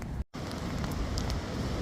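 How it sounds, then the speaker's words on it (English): Heavy rain bucketing down outdoors while work goes on around a Skoda Fabia vRS 1.9 TDI, a dense, steady hiss of drops with a brief dropout early on and scattered sharper taps. "it is bucketing out, and it is very rainy"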